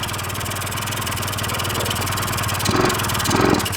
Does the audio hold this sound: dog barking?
no